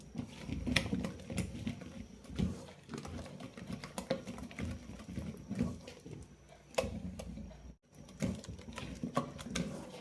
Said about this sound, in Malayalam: കൈകൾ കൊണ്ട് നന്നായി മിക്സ് ചെയ്തെടുക്കാം